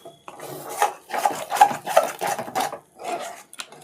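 A utensil stirs a thick dhokla mixture in a pan, scraping and rubbing in quick repeated strokes that sound close, with no voices.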